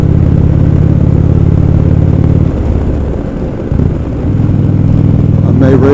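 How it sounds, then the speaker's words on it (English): Steady wind roar from riding an Indian Roadmaster motorcycle along a highway, a loud continuous broadband rush mixed with engine drone that dips briefly mid-ride before building back up. "Raise up my windshield a little to cut down on the wind noise."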